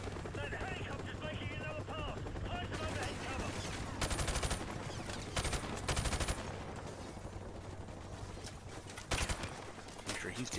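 Rapid gunfire bursts in Call of Duty 4: Modern Warfare Remastered, loud and dense with sharp volleys and a steady battlefield din, with voices underneath at times.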